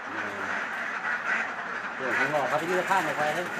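Dense chorus of ducks quacking on a Thai duck egg farm with about two thousand laying ducks, many overlapping calls close by and growing busier, with talk mixed in.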